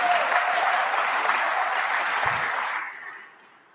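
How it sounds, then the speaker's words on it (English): Audience applause at a celebration of ten years of a career and technical education program, a steady wash of clapping from a crowd that holds evenly and then fades out toward the end, with no talking over it. "you can applaud for that"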